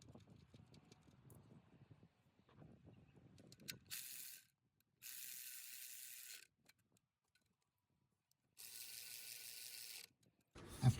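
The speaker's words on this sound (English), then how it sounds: "After that, go ahead and tighten it with your ratchet." A ratchet tightens an alternator mounting bolt on a Ford Ranger, heard close up as two sustained bursts of rapid, crisp clicking separated by quiet handling noises, with no talk.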